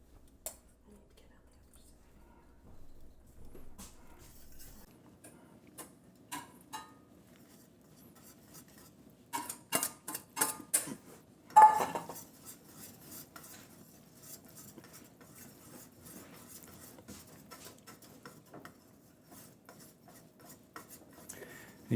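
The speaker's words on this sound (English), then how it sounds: "You can see you just stir that in and the cheese now is melting nicely." A spoon stirring grated cheese into béchamel sauce in a pan for Durbin mac and cheese, soft scraping and clinking that turns into a brisk burst of rapid stirring strokes, with quiet talk at times.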